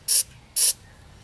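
Two short, sharp hissing spurts of WD-40 sprayed onto a seat belt buckle in a 2002 Honda CR-V, close and loud, separated by a brief pause.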